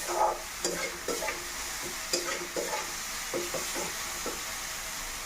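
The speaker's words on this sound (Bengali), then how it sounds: "তো এটাকে একটু সুন্দর করে কষিয়ে নিতে হবে" Spice paste with a little water sautéing in a kadai, a steady sizzle broken by repeated scraping strokes of the stirring spoon, close and fairly loud with no talk.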